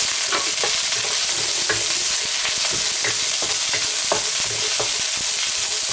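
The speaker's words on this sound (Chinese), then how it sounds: "加入食用油，加入葱姜蒜干辣椒，给它炒香" Scallion, ginger, garlic and dried chili stir-fried in hot cooking oil in a wok, a continuous loud sizzle with rhythmic scraping and tossing knocks of the spatula throughout, no talking.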